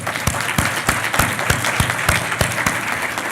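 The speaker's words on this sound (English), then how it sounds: "If we can give them a round of applause." Applause at an awards gala honoring volunteers and staff, a few distinct loud claps standing out in a regular beat over a softer spread of clapping from the room, continuous for a few seconds.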